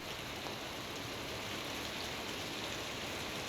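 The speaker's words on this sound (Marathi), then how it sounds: "पनवेलमध्ये मुसळधार पाऊस कोसळलाय" Steady, dense hiss of heavy monsoon rain pouring without pause in Panvel, India, a constant wash of sound close around.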